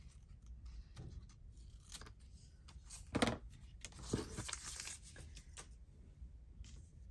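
Scissors trimming a strip off paper ephemera at a craft table, a few quiet snips and rustles of handled paper, close and soft, with no voices.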